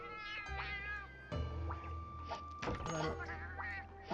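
A cat meows in Monster Hunter Stories, with several short tonal mews rising and falling over a steady game music bed and a few dull thunks.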